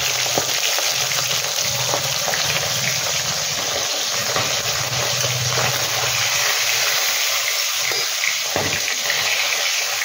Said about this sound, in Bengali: এবার মাছটা ভেজে নিয়েছি।